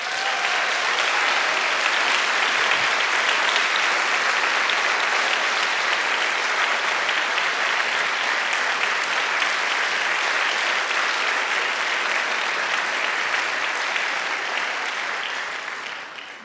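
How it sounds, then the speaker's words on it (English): A large audience at a foundation event gives sustained, loud applause that runs steadily for the whole stretch, dense clapping with a faint crowd murmur, tapering slightly at the very end. "please give an amazing round of applause for Rona and Jeffrey Abramson."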